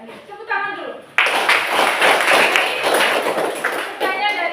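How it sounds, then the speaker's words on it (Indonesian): A class breaks into a burst of hand clapping after a teacher's brief spoken prompt. The dense, close applause starts abruptly and carries on steadily to the end. "Tepuk tangan dulu."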